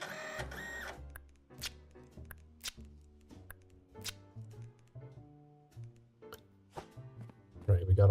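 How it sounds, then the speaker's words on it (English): A label printer in the video game Parcel Simulator runs in repeated mechanical bursts, whirring and clicking in a stop-start rhythm, fairly close, with a person speaking in places. "The printer sound is very good."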